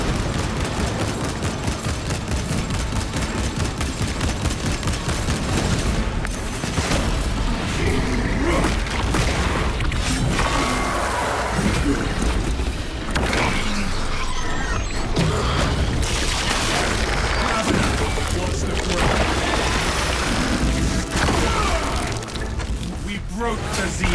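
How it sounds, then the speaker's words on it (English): Crack grenade blasts and heavy gunfire in a tactical shooter video game, a dense, continuous barrage of booms and rapid shots with mechanical clatter, spoken lines mixed in. "Deploying crack grenade."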